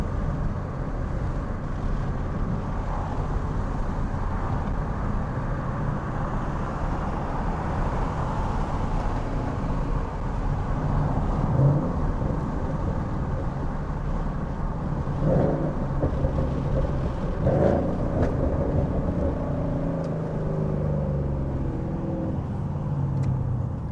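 A Ford Mustang GT engine rumbles low and steady while driving, with engine swells as the revs rise and fall, heard from inside the car with no talking.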